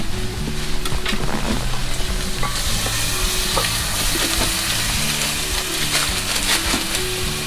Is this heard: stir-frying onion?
yes